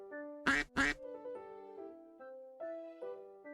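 Two loud, close duck quacks in quick succession from the video game Pre-Odyssey, followed by a soft, sustained tonal game melody underneath.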